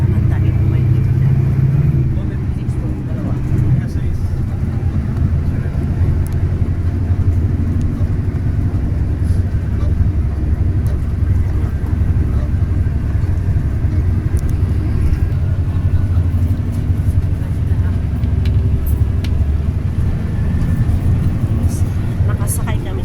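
Steady low engine drone and road rumble inside a Victory Liner bus travelling from Olongapo toward Manila, loud and continuous throughout, with voices talking over it.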